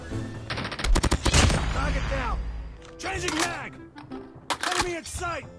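Rapid bursts of automatic gunfire in the mobile shooter Call of Duty Mobile, sharp cracking volleys coming in several clusters with short gaps and game sounds between.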